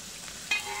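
Green chillies and onions frying in oil in a pan, a steady soft sizzle with a brief louder crackle midway, no voices.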